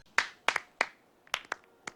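A brief patter of applause from the Hearthstone card game: about seven sharp claps or snaps in an uneven rhythm, close and fairly quiet, with no voices.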